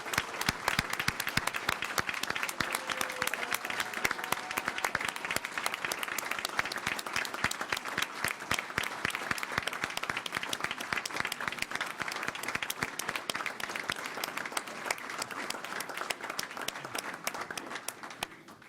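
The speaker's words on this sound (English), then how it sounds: "Can we please give another round of applause to our newest Westerville graduate?" Audience at a school board of education meeting in Westerville gives a steady round of applause for a new graduate, dense clapping sustained for many seconds at moderate distance.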